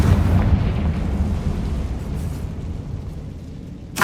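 Blasting spell in the Hogwarts Legacy video game, a loud booming explosion with a dense low rumble that fills the whole stretch and slowly fades, then a short sharp burst right at the end.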